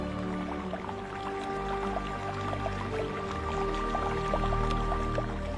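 Water drips from mosses and lichens in a misty mountain cloud forest, small scattered drops falling irregularly and faintly over a soft, steady background hush.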